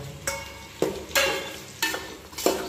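Potatoes and tomatoes with chillies being stirred in a frying pan, with a handful of scraping strokes of the spoon over a soft sizzle, close and moderately loud, no voices.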